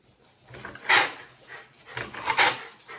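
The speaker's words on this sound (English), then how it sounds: "The puppy dogs are running around." Puppies scamper around a home kitchen, their paws and bodies bumping about in irregular bursts with a couple of louder thumps and faint whimpers, close by.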